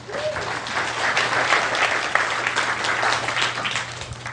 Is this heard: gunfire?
no